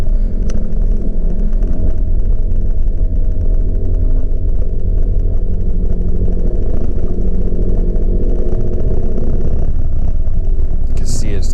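A 125cc scooter engine labouring while towing a truck: a steady, loud engine drone at slow speed with heavy wind buffeting on the microphone throughout.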